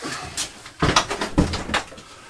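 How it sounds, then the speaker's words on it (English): An indoor door pushed shut, heard as a few quick wooden knocks and thumps close by, ending in a firmer closing bump. "Let me get the door shut"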